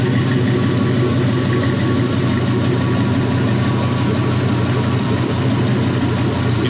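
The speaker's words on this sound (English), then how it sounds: "you can have a conversation right next to a running V8" A 4.8L Gen3 V8 engine idles close by with a steady, loud, continuous rumble that holds even throughout.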